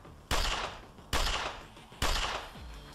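Three loud gunshots fired at a target dummy in the sci-fi game Sword of the Stars: The Pit, evenly spaced under a second apart, each a sharp crack with a decaying tail, no talking.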